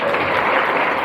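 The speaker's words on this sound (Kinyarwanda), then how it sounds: "abandi bishimiye bano bana ni mubaha amashyi" A wedding reception audience claps for a group of children in a dense, steady burst of applause, loud and close, filling the whole moment.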